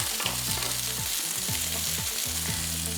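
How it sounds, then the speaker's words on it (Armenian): Food frying in a pan, a steady close sizzle with stirring sounds and a low humming tone running underneath throughout. "Մենք հիմա պետք է տապակենք"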